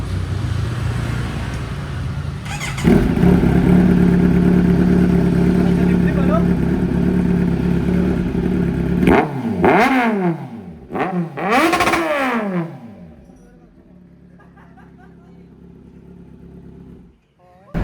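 A Kawasaki Z900 motorcycle with its catalytic converter replaced by a stainless pipe idles loudly, then snaps through several sharp revs that rise and fall, before dropping back to a quieter idle; someone talks briefly under the engine.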